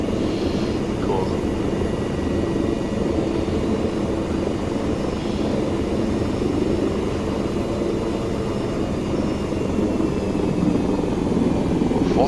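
Helicopter engine and rotor running at full throttle in the Arma 3 video game, a dense steady roar that continues unbroken and loud throughout.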